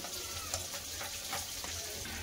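Fish frying in hot oil in a pan, a soft steady sizzle with faint crackles, quiet and continuous with no voices.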